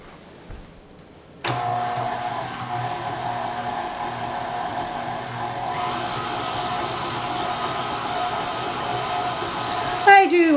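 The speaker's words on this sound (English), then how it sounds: "I do like my KitchenAid mixer." KitchenAid stand mixer switched on after a quiet start, running with a steady loud whirring motor hum for about nine seconds before a brief shift in pitch at the end.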